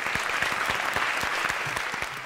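A crowd claps continuously and evenly at a Karnataka singing-contest stage show, a sustained, full round of applause greeting the judges and instrumentalists.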